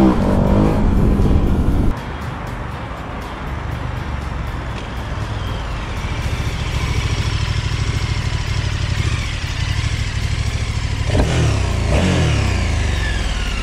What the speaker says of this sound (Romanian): o motocicletă de 1301 cm cubi cu 160 de cai putere